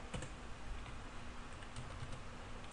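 Someone types a value on a computer keyboard in AutoCAD, a few faint, scattered key taps over quiet room noise, ending with one sharper click.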